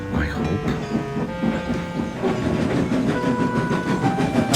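Cartoon steam engine chuffing off along a railway, a rhythmic clattering and puffing with ringing tonal layers, fairly loud and steady, gathering pace over a few seconds.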